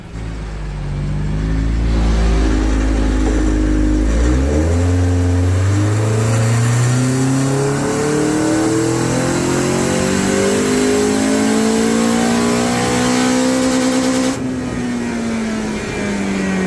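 A Honda K24-swapped Toyota Camry revs hard on a dyno, its exhaust droning loud and steady as the engine pitch climbs through a long pull, then drops off near the end.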